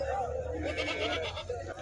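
Goats bleat at a busy goat and sheep market at Kothacheruvu, their short wavering cries rising over a crowd murmur and nearby talk.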